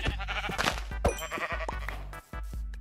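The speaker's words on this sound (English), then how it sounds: "Let's get the sheep." Sheep in Minecraft bleating several times in quick succession, loud and close, the repeated bleats overlapping within a few seconds.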